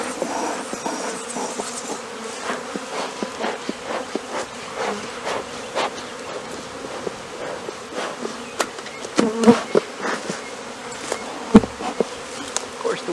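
A honey bee swarm buzzes steadily in the open air, a dense, continuous hum of many insects close by, with scattered louder passes as individual bees fly near, and a few brief knocks and bumps late on.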